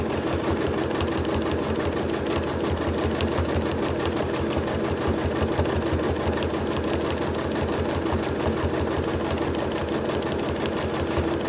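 A sewing machine runs steadily through free-motion quilting, its needle chattering in a fast, even rhythm at close range without pause.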